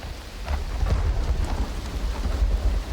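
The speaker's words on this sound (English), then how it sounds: "as much as I love sitting and listening to the rainstorm here in Eater Chemo." Rainstorm with rolling thunder in the game Uru: Complete Chronicles, a steady wash of rain with deep low rumbles swelling and fading throughout, fairly loud and with no voices.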